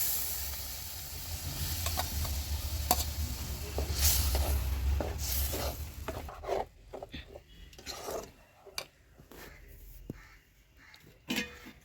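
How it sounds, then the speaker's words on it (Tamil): Oil sizzles steadily in a pan as a thick ground spice paste is stirred and fried for egg gravy, with scraping clicks growing more distinct as the sizzle quiets partway through. "அரைச்ச விழுது வதக்கி அரைச்ச விழுது"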